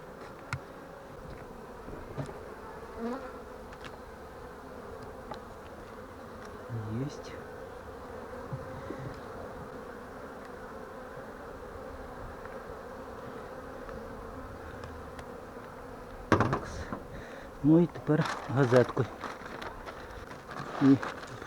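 Honeybees hum around the frames of a beehive, a steady close buzzing throughout, with a few sharp knocks and handling clatters near the end.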